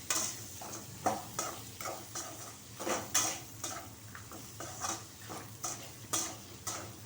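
Chopped vegetables fry in hot oil for a pachadi, with a steady soft sizzle under repeated scraping and clinking stirs of a spoon against the pan, close and fairly quiet.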